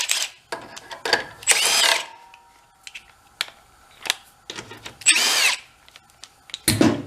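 Bolts come off the rear shock of an old mini bike with short bursts of a power tool or ratchet, separated by quiet gaps and small metallic clicks, close by.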